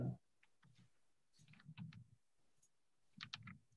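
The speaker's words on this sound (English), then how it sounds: "So now I'm typing a new email." Computer keyboard typing in short bursts of clicks and taps during an email session, fairly quiet and close, with pauses between the clusters of keystrokes.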